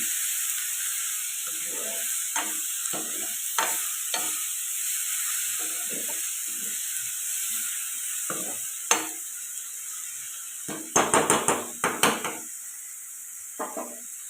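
Flat beans and tomato curry fry in a pan over a steady sizzle and hiss, while a spoon scrapes and stirs in irregular clinks, with a brief cluster of sharper metallic taps near the end.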